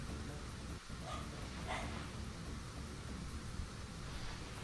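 A dog barks in the PS1 game Syphon Filter: a few short, faint yips and barks over a hissy background, with a human voice briefly present.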